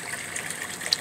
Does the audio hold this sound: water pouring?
yes